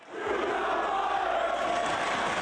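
Wrestling arena crowd roaring in anger at Jeff Hardy's Ring of Honor appearance: a dense, sustained wall of jeering voices, loud and steady throughout.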